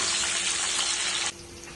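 Ingredients for masala chicken pulao frying in a pan, giving a loud, dense hiss that cuts off abruptly partway through, leaving a quieter background.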